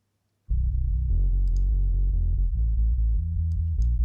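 Low channel of a split bass guitar track, heavily EQed, playing deep, rumbling sustained notes after a brief silence, with occasional faint clicks and string noise on top.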